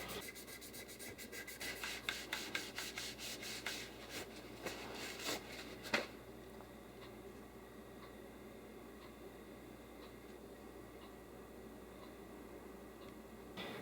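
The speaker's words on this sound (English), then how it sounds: "with a little bit of oil and a tiny bit of an abrasive material, maybe even some steel wool, just gently scrub it like so" Aluminum residue being scrubbed off an AR-15 rifle barrel with oil and steel wool, a rapid rhythmic rasping rub for several seconds ending in a sharp stroke, then quiet faint scratching, close and soft.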